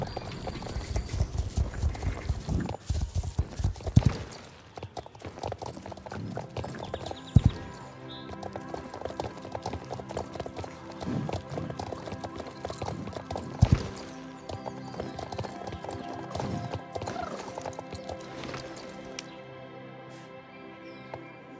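Steady clip-clop of horse hooves in the game Star Stable, a rhythmic trot close up, with a few sharper thuds and a soft whinny early on.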